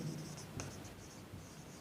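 Pen or pencil writing out a maths solution on paper or a board during a lesson on metric length units, a steady soft scratching that runs continuously at close range with no talk.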